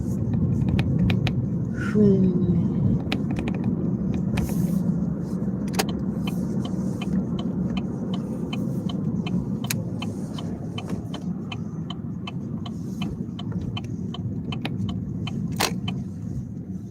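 A car drives through a grocery store area, a steady low engine and road rumble throughout with faint clicks and light jingling over it.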